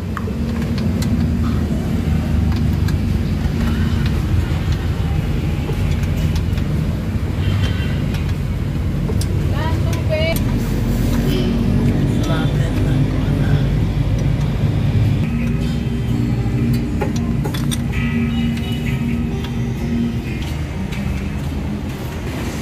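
A Suzuki DA63 engine, freshly overhauled and reassembled, fires up and runs steadily for over twenty seconds, a loud continuous mechanical rumble with shifting higher rattles and no talk over it.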